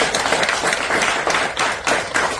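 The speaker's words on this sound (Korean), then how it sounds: "힘차게 박수로 우리를 격려했으면 좋겠습니다" A crowd at a memorial service for the 11th anniversary of the Sewol ferry disaster claps steadily for a couple of seconds, a dense, sustained burst of applause with no talking.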